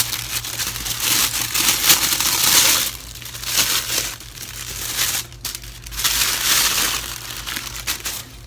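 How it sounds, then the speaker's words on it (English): Tissue paper wrapping crinkles and rustles as a Chanel Timeless Classic Mini Flap bag is unboxed, loud and close, in bursts of crumpling with short pauses and no speech. "it came wrapped with the tissue"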